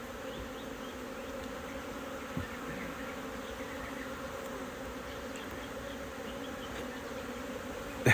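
Honey bees buzzing during a hive inspection of a strong colony, a steady dense hum from many insects close by, fairly quiet and continuous with no speech.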